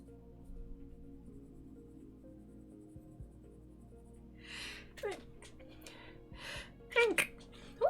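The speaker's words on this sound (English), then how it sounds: "that was a sneeze." A stifled, muffled sneeze bursts out briefly, followed by a couple of soft breathy sounds, close by over a quiet room hum.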